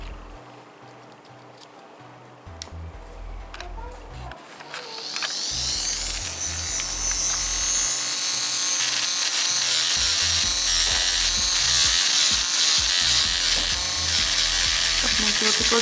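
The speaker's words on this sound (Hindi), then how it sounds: "अब इन पे हम ड्रिल करेंगे" An electric nail drill starts up after some quiet handling sounds and settles into a loud, steady high-pitched whir while filing acrylic fibre nails, running continuously to the end.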